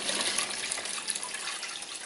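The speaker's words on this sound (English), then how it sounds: "And just pour it into a container." Cloudy water from rinsing rice is poured into a container, making a steady close splashing and trickling sound that runs continuously without talk.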